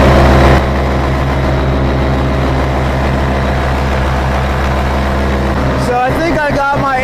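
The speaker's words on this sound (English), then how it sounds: "I think I got my engine pretty tuned" A paramotor engine running in flight makes a loud, steady droning roar that continues throughout, with a brief rush of wind noise near the end.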